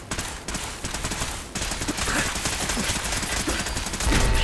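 Dense, continuous bursts of gunfire in Fallout 4, loud and close, with rapid shots running back to back throughout and a heavier burst near the end.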